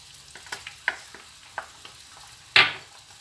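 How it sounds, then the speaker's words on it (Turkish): Tomato and pepper paste sautéing in a pan gives a faint low sizzle broken by scattered spoon scrapes and taps, with one louder clatter near the end. "biber salçamızı ilave edip güzelce kavuruyoruz"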